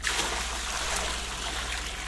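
Water pours steadily into a container as a continuous rushing trickle with a constant low hum beneath, close and unbroken, with no voices.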